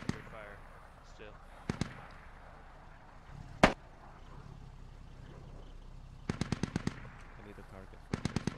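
Gunfire in the tactical shooter game Squad: a single sharp shot, then a rapid burst of several reports and another short volley, with distant pops and background noise between them.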